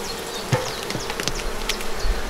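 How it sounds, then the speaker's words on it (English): Bees buzz steadily around an open beehive during a spring inspection, with several insects droning close by and individual buzzes passing near and away over the constant hum. "A couple of puffs, get those bees out the way."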